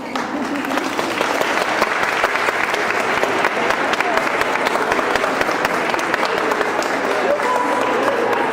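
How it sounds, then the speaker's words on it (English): A crowd at an International Women's Day 2014 gathering claps together, a sustained, even wash of many hands that stays loud and close for the whole stretch. "I'd like you to clap"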